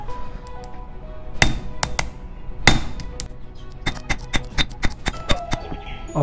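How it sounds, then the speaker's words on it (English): A hammer strikes a metal cable lock on a DIY home gym pulley, giving sharp, ringing metallic blows: a few spaced hits, then a quicker irregular run of strikes, close and loud. "So let's get to the hammering part."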